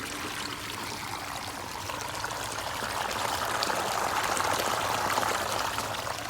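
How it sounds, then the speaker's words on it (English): Water flows constantly through a tiger's swimming pool, fed from a lake and kept moving by solar-powered pumps; a steady, broadband rushing stream that swells slightly louder partway through, with no talking. "The water is constantly flowing."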